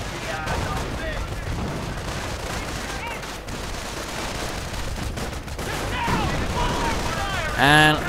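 Rifle gunfire crackles through a Company of Heroes battle as Fallschirmjaeger paratroopers duel a large squad of riflemen, a dense, continuous volley of shots under steady commentary, swelling toward the end with a sharper burst.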